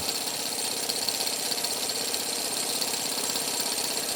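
A Stirling engine drives a model helicopter blade through a gear, giving a steady, fast mechanical rattle and whir that runs continuously at close range with no voices.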